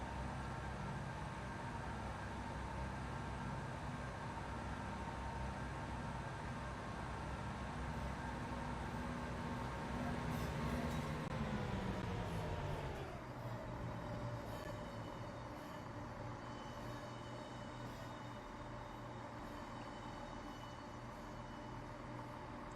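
A Great Western Railway train pulls into Bath Spa station on the Great Western Main Line, a steady loud rumble of engines and wheels whose low drone falls in pitch as it slows to a halt, with a faint squeal of brakes.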